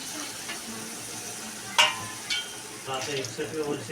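Water poured into a pan of frying masala paste hisses against a background sizzle, with a sharp splash partway through and bubbling and stirring after it.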